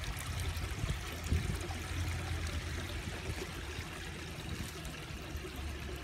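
Water drains from aquaponics grow beds into a pond, producing a continuous close trickle and stream with a steady splashing texture and no talk.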